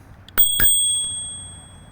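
Two quick, bright rings from a bell built into the left brake lever of an OOTD S10 electric scooter, followed by a slowly fading metallic shimmer, clear and close with nothing else around.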